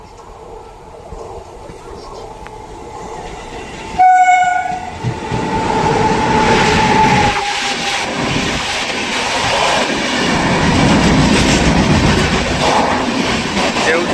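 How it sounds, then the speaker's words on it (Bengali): The Howrah–Guwahati Saraighat Express passenger train rumbles and clatters past close by, with a loud, sustained horn blast partway through, then the heavy roll of carriages continues. "আরেক দিক দিয়ে আসছে ভারতের সবদিকে সহজতম train number one two three four five Howrah Guwahati Saraighat express"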